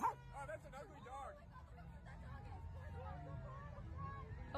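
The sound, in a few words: dog barking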